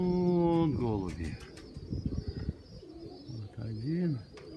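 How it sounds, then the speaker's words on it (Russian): Pigeons coo in low, warbling calls nearby, with a few short bird chirps and rustling in between. "И вон голуби."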